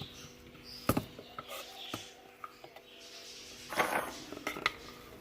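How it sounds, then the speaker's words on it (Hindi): Chicken wonton filling being scooped into a bowl, with a few sharp spoon-and-bowl clinks and soft scraping scattered over quiet kitchen background, one brief louder rattle near the end. "अब मैं इसे जो है बॉल के अंदर डाल रही हूँ।"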